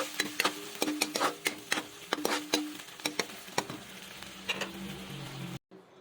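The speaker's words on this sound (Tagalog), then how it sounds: "nagluto lang ako ng sunny side up na itlog saka itong ginisang Argentina" Sunny-side-up eggs and sautéed Argentina corned beef fry in a pan with a soft, constant sizzle. Sharp utensil taps and clicks fall in an irregular rhythm before the sound cuts off abruptly.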